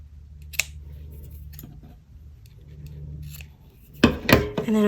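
Scissors snip through paper pieces being trimmed for a small shabby-style notepad, a quiet early cut followed by a louder, close burst of cutting near the end over a low background hum.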